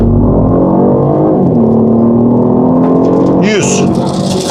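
A BMW 230e Active Tourer plug-in hybrid pulls hard from a standstill, a loud steady drone in the cabin that swings in pitch partway through, with a voice speaking over it.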